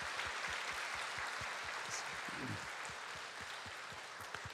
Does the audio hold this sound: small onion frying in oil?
no